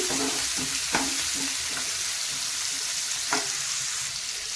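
Finely chopped onions fry on a low flame, a close, even sizzle broken by a few scraping stirs of a spoon against the pan, with no voices.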